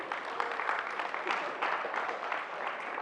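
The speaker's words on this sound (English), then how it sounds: "Let's clap for that young boy." Students at a STEAM camp clap for a young boy, a moderate, somewhat distant patter of applause from a group that stays even through the moment.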